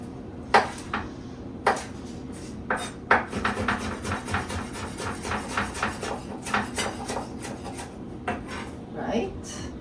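Fresh garden bellflower root, already washed, is chopped a little at a time: a string of crisp knife taps on a cutting board, irregular at first, then quicker and more even, fairly close and clear.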